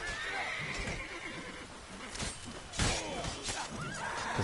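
Geralt's horse Roach in The Witcher 3 lets out a loud, shaky whinny, with hoof clip-clops and game ambience around it and a brief second neigh near the end.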